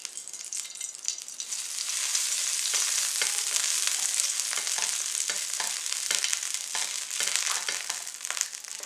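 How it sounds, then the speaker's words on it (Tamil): Bread frying in ghee on a hot pan gives a steady, close sizzle with crackling pops that swells slightly and holds throughout, with no voices. "இனி பேன் எடுத்து ஹீட் பண்ணி அதோட கொஞ்சமாக நெய் சேர்த்துக்கணும்."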